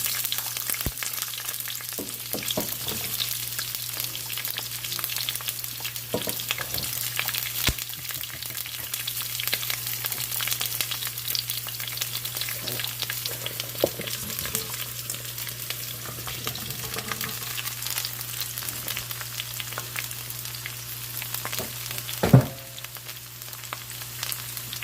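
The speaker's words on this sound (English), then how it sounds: "we're using this grapeseed oil. I love grapeseed oil. I got to get back to using that all the time. We're just going to put our green beans over in there." Green beans fry in hot grapeseed oil, a steady, close crackling sizzle that runs throughout with occasional stirring clatter and one sharp clink near the end.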